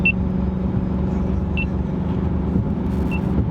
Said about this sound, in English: I'm putting my pedal to the ground, and yeah, it's still picking up pretty slow